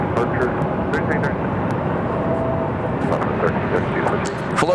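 Southwest Airlines jet departing Phoenix airport, a loud, continuous engine rumble dotted with brief clicks and light knocks throughout.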